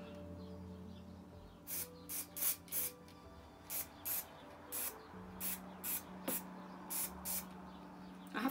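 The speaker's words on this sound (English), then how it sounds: "So let's use our trusty spray." A series of short, sharp aerosol spray bursts, about a dozen in quick irregular succession, hissing close by over a faint background hum, while spraying model static grass.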